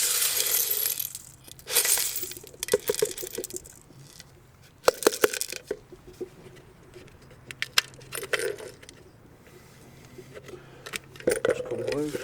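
Coins found while metal detecting are tipped out of a rock lapidary tumbler outdoors: metallic clinks and jangling come in bursts, with a rattling slide as the barrel empties, and someone talks in between.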